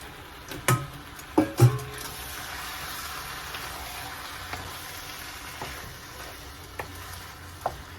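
Fish fries in a simmering eggplant sauce, giving a steady low sizzle with a few louder clicks and pops near the start and occasional soft taps later, close and without talk.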